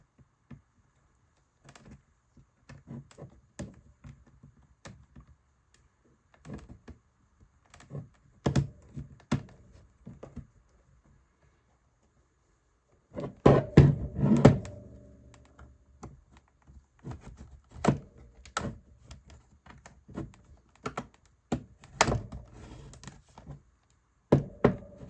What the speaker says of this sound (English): use sharp plastic like this to remove the back panel